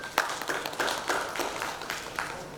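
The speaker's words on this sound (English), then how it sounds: "can we have a huge round of applause for yourself?" Audience at an education leadership summit in Rajasthan claps together, a dense, steady patter of hands in a large hall, moderately loud and sustained for a few seconds without talk.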